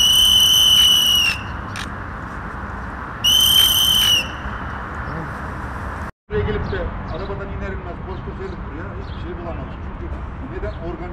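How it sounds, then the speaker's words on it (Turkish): Loud shrill whistle blasts during a search and rescue drill, two long sustained blows a few seconds apart over background crowd noise and talking. "Arkadaşlar düdükle beraber el sallıyoruz."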